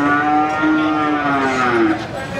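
A large Limousin bull of about one ton lows in one long, loud, close moo that rises and falls in pitch before trailing off, with no talk over it.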